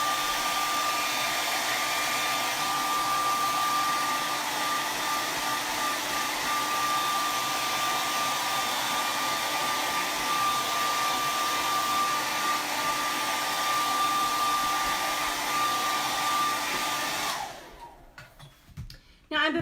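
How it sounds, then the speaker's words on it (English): A hair dryer blows steadily to dry fresh paint, a loud constant whirring hum with a thin whine that runs for about seventeen seconds before it is switched off, followed by a few soft handling knocks. "I'm going to turn the dryer on for just a minute."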